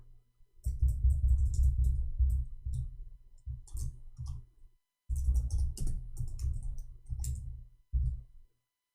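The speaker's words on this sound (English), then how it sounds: "I'm going to type it for you." Someone types on a computer keyboard, close and clear, with rapid clicking in several bursts separated by short pauses.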